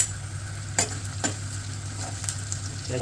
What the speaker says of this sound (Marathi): ते चांगले कडवून घ्यावे. थोडा कांदा लाल व्हायला पाहिजे.